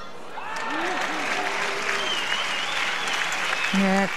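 Badminton crowd at a 2014 Swiss Open mixed doubles semifinal cheering and clapping to urge on a European pair, a loud steady roar with whoops and a voice rising above it.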